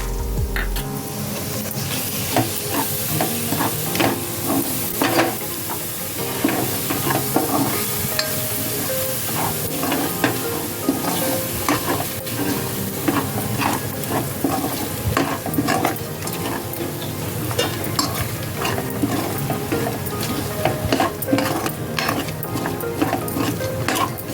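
Roasted onion with fresh and dry coconut masala is stirred in a pan for a chickpea and jackfruit-seed usal, with steady spoon scrapes, clinks against the metal and a soft sizzle running throughout, close and fairly loud.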